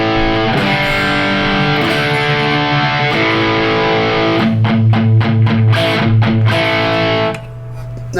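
Overdriven electric guitar through a Marshall JCM 800 (British 2203) amp pushed by a Tube Screamer, playing a riff: loud sustained chords followed by a run of tight, rhythmic palm-muted chugs, then a ringing final chord.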